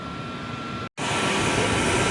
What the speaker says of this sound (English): Got Aerojet back taxiing to the full length, which we will be expecting a full power takeoff.